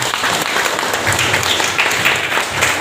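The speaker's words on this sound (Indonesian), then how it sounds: "Tepuk tangan dulu untuk kita semuanya" Loud applause from a school audience at a student seminar in Bojonegoro, dense clapping with a few sharper individual claps standing out, close and steady throughout.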